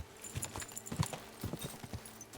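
Horse hooves clip-clop at a steady walking pace in Kingdom Come: Deliverance II, each step a close, distinct knock in an even rhythm with no one speaking.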